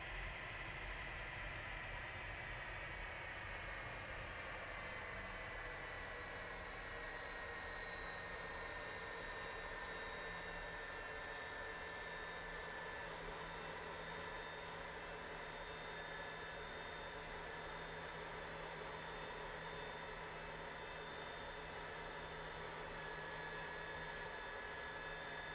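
An Aero L-39C jet engine idling in the DCS World flight simulator, a steady whining roar with a faint low hum running underneath, unchanging and continuous with no talk.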